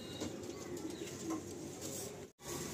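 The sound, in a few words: pigeons cooing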